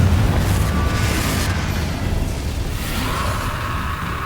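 Confringo blasting spell going off in Hogwarts Legacy, a heavy booming explosion with a rumbling low roar that fills the whole stretch loudly and steadily, no talk over it.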